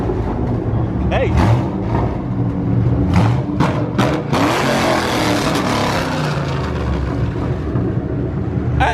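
A car engine revs at a street car meet, loud roaring bursts and thumps close by amid crowd noise and people talking.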